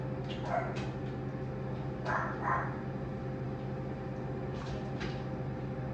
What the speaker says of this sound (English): There goes my girl, Subi, barking again.